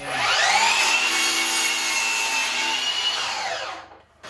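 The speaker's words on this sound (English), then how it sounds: "And then as I make cuts, it will put that sawdust directly into the KwicKan." Power tool cutting through wood, a loud sustained high whine with gritty texture for about four seconds before spinning down, close up, with sawdust directed into a portable trash can.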